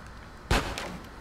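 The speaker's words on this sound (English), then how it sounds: "Who shot at me?" A single sharp gunshot in Grand Theft Auto: San Andreas cracks out mid-clip, followed by a quieter second report over low background ambience.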